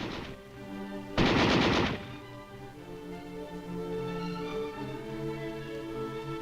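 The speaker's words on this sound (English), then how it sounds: "new small arms like the M60 machine gun, which is replacing the old heavy and light machine guns" An M60 machine gun firing 7.62 NATO rounds: a short, loud, fast burst lasting under a second, heard alone over a low background hum.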